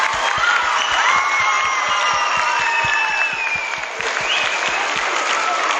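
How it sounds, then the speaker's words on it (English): A school assembly crowd gives sustained applause for its teachers, thick continuous clapping with some cheering, loud and steady throughout with a slight dip near the end. "please clap it up for your teachers because they're amazing"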